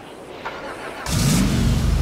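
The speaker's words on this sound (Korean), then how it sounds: "제가 바로 엔진 소리 한번 들어볼게요" A homemade car with no accelerator or brake fires up its engine, which jumps from quiet background noise into a loud, close, rough rumbling drone halfway through.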